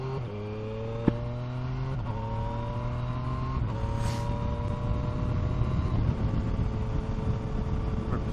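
An in-car engine drone as a car drives along a road, its tone climbing steadily through several gear changes under acceleration, loud and continuous with faint road noise and no talking.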